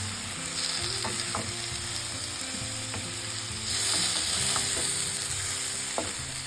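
Potatoes being stirred into a sizzling frying mix in a pan, with steady frying hiss and a few soft scraping strokes, the sizzle growing louder partway through.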